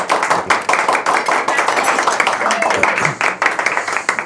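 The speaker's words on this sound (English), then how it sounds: "Do a little clap as well." A group at a Rotary gathering claps together while posing for a photo, lively uneven clapping close by, with voices talking over it.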